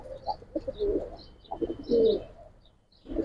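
Pigeons coo in a loft in Islambagh, Old Dhaka, with soft throaty calls repeating in short irregular bursts at close range and a few faint chirps above, no voices.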